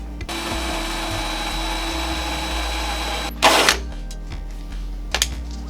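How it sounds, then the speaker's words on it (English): A titanium-coated step drill bit runs steadily and close for about three seconds with a constant whining tone, then stops; a short harsh burst and a few faint clicks follow. "What are you doing, step drill?"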